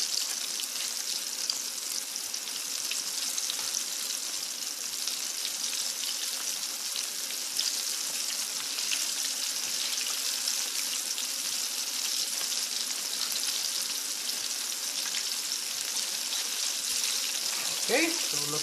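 Cuttlefish calamari frying in a pan, a steady, loud hiss and crackle of hot oil that continues without a break throughout.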